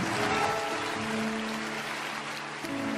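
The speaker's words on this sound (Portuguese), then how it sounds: "Um forte aplauso ao Senhor." A church congregation claps in a soft, steady burst of applause, heard at a distance with a faint tonal hum underneath.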